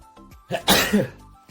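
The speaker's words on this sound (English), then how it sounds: "sorry, I need to sneeze." A single close, sharp sneeze with a quick intake of breath before it, alone in a quiet room.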